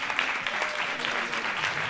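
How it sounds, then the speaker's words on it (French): A live audience claps loudly and steadily at a stage show, a dense, continuous wash of applause with no talking over it. "on peut les applaudir très fort."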